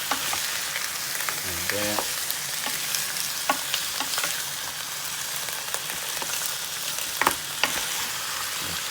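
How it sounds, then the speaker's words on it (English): Pork neck bones sizzle and brown in a pot, with a steady frying hiss, scattered scraping stir clicks, and a brief spoken remark near the start. "Stir that up and let them get a little brown."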